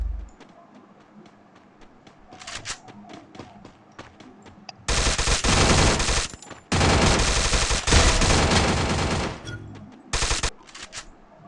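Video game gunfire: scattered single shots, then long sustained bursts of loud automatic fire, with shorter rattling bursts near the end.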